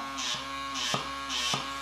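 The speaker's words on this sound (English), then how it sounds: "when you turn it on, the disc spins, you can see, and then there's also like a vacuum seal" Microdermabrasion device with a spinning disc and vacuum running, a close steady electric buzz and hum that pulses in a regular rhythm with brief clicks, heard alone.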